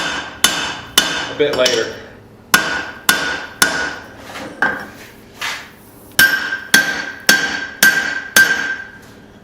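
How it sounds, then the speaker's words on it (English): A hand hammer forging a hot steel dog nose hammer head rings out in loud, evenly spaced strikes, about fifteen in all, each with a sharp metallic ring, and a voice speaks briefly partway through. "hammering these little cheeks in, flattening them back out."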